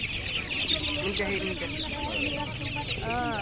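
Chickens, including native country birds, cluck steadily at a busy poultry market, with a rooster-like call near the end and people talking in the background.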